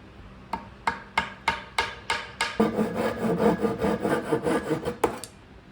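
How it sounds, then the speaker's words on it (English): A flush trim saw cuts a wood plug in walnut: about eight sharp, evenly spaced strokes, then a faster run of rasping sawing and one final stroke, close and loud. "Woodworkers have a secret weapon, a flush trim saw and a wood plug."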